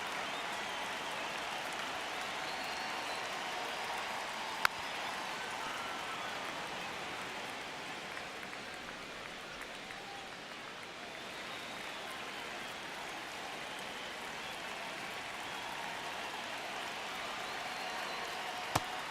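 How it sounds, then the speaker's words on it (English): Stadium crowd in the MLB The Show 26 baseball video game, Toronto Blue Jays versus Houston Astros in the ninth inning, roaring in a steady, dense wash of cheering and applause that holds throughout, with no talking. "Crowd locked in right now."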